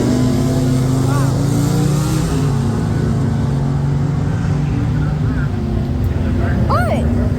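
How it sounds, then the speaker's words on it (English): A car engine revs loudly and continuously at a speedway, a steady roar with rising whines near the end, while people talk over it. "Sounds like a really nice car."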